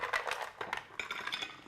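Ice cubes from a kitchen blender tumble onto a plate in a quick run of bright clinks and clatters, close and moderately loud, coming in several small bursts.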